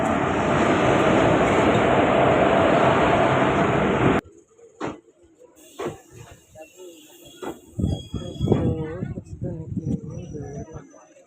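Train in motion, a loud steady rumble of rail noise for about four seconds that stops abruptly, followed by quieter scattered sounds and voices talking.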